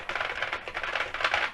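Fingers typing on the keys of a ZX Spectrum computer, a rapid run of clicky keystrokes close up and fairly loud, with no talking.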